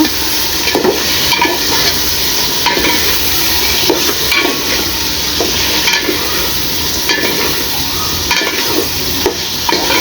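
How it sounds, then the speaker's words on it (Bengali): Khichuri sautés in a pot in a village kitchen on a rainy day, with a loud, continuous sizzle broken by repeated scraping strokes of a spoon stirring against the pot. "ভালো করে কষিয়ে নিব"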